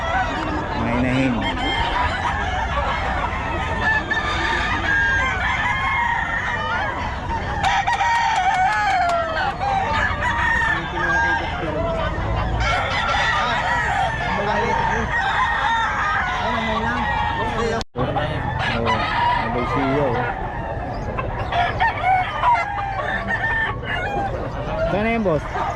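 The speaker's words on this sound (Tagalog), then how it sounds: "Mga inahin." Hens cluck and roosters crow over and over amid a busy poultry sale where traders and buyers talk throughout, giving a dense, continuous mix of many birds close by.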